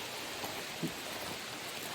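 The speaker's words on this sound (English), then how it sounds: "And now the wind has picked up and it's starting to rain again" Rain falls beside a river near a remote waterfall in the Poconos, a steady, soft, even hiss that runs without a break, with one faint low bump partway through.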